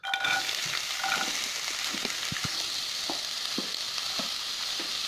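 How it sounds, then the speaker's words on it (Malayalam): Chopped onion frying in a hot pan for a Kannur-style Chinese filling, a steady hiss of sizzling oil with scattered soft taps and stirring scrapes, close and continuous, no voices. "ഇനി നമുക്കിതിലേക്ക് ഉള്ളി ഇട്ട് കൊടുക്കാം."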